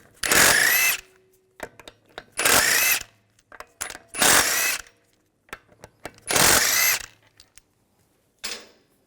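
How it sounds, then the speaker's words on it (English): Impact-style power tool with a 17mm socket spinning out the wheel lug bolts on a 2006-2010 BMW 550i: four loud, separate bursts, each about half a second long, with short clanks and quiet gaps between them and a faint final burst. "Use a 17mm socket to take the lug bolts out."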